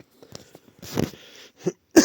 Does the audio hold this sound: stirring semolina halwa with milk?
no